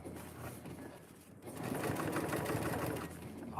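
Several sewing machines run together in a room during a New Year's Eve sew-along, a continuous busy mechanical whir that steps up in level partway through, with people talking over it.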